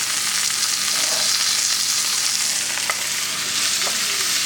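Onion, wild burdock and wild milkweed sautéing in a pan, a steady loud sizzle running continuously with a couple of faint stirring scrapes and clicks breaking through.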